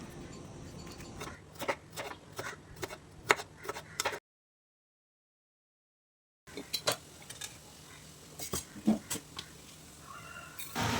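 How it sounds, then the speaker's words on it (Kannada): Knife slicing bitter gourd on a cutting board, a run of sharp, close taps and chops coming quickly one after another, broken by a few seconds of silence before the cutting resumes. "ಈಗ ಇದನ್ನು ಸ್ಲೈಸ್ ಆಗಿ ಕಟ್ ಮಾಡುವ"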